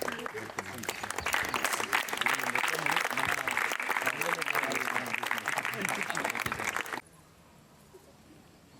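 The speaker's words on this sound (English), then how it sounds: "please give them a big round of applause" Audience gives a big round of applause for the youth parliamentarians at a national youth parliament session in Banswada: loud, dense hall clapping for about seven seconds before it cuts off abruptly to quiet.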